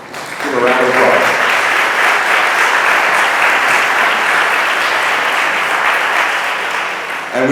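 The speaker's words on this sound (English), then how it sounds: "Give a round of applause." A town hall audience in Winston-Salem breaks into a round of applause, dense and loud clapping that swells quickly and holds steady for several seconds, with a brief voice audible at the very start before the clapping takes over.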